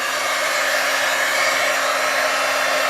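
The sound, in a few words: heat embossing tool switched on, blowing hot air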